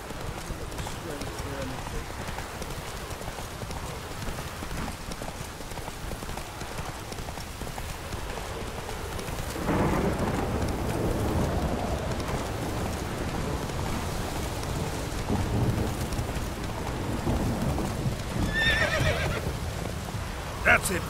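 Roach, a horse in The Witcher 3, trots through rain with steady hoof clip-clop and a whinny, set against constant rainfall and game ambience; speech is present.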